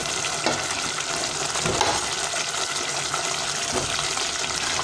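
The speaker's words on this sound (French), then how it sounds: "j'ajoute les morceaux de viande" Pieces of beef frying in a pan for a peanut beef stew, a steady, close sizzle with occasional stirring clatter and no talking.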